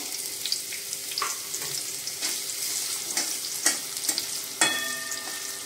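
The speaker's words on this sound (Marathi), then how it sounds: "कांदा आता आपण चांगला भाजून घेऊया।" Chopped onion fries with crushed garlic and cumin in a hot pan for spicy tomato bhaji, giving a steady close sizzle with occasional scraping stirs and small pops, and no voices.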